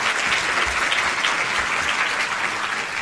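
A seated lecture audience gives a gentleman steady, sustained applause. The dense clapping fills the room at an even level from start to finish, with no voices over it.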